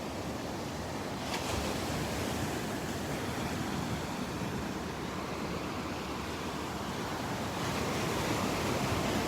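Steady surf rolls onto the beach at the historic Naples Pier, a broad continuous wash of breaking waves with some wind noise, fairly loud and without talking.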